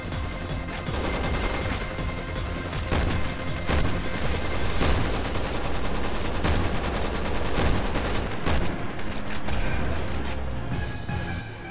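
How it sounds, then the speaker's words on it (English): Shots from an anti-tank rifle in the action game Resident Evil 6, played on the no-mercy campaign as Piers. Loud, punchy blasts repeat over a dense, constant layer of combat noise and music. "Anti-tank rifle."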